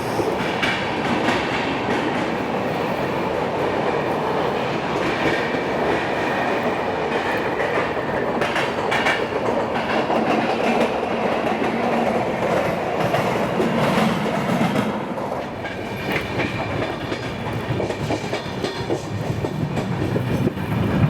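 Vidarbha Express running on rails: a loud, steady rumble of the moving train with wheel clatter and rattling carriages throughout, easing slightly near the end before picking up again.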